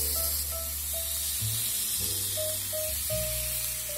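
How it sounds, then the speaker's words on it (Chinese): Lamb chops frying in a pan preheated over high heat give a steady, bright sizzle and hiss throughout, with soft music tones underneath. "开大火把锅先烧烫，和煎牛排是一样的道理。"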